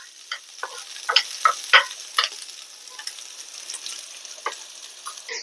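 Raw mango pieces drop into a hot pan with the gas just turned off, giving a close, crackling sizzle with scattered sharp pops that is busiest at first and then thins to lighter ticking spatters.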